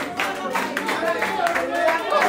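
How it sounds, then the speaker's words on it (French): Applause from a studio audience at a French-speaking dating game show, a dense steady patter of many hands clapping close by without pause for a couple of seconds. "applaudissez pour elle, s'il vous plaît"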